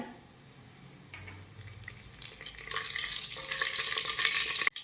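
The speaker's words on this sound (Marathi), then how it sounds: "जिरं व्यवस्थित फुललं की त्यामध्ये घालूयात दहा ते बारा कडीपत्त्याची पाने" Curry leaves drop into hot oil already crackling with mustard seeds and cumin, and a faint sizzle swells into a loud, spitting crackle over a few seconds before cutting off abruptly.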